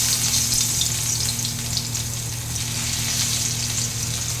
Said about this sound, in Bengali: এবার তেলটা গরম হয়ে গেছে, তেলের মধ্যে আমি প্রথমে রসুনটা দিয়ে দিলাম